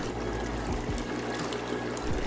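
Air bubbles in a TeaLab compost tea brewer churn through the water as a soft, steady gurgling wash, with occasional low bloops. The bubbling stays fairly quiet throughout and no one speaks.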